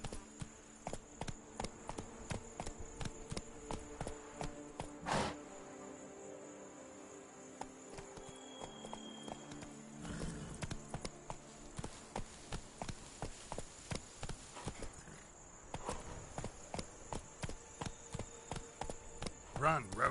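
Roach, the horse in The Witcher 3, running with a steady, rapid clip-clop of hooves across the stretch, fairly quiet, with a brief pause in the middle and speech over the top.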